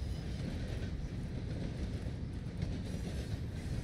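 Train rolling past in a video game, a steady low rumbling rush with faint rhythmic clatter, continuous and fairly close, with no voices over it.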